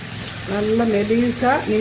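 Long slices of brinjal frying in hot oil make a steady sizzle while a voice talks over it.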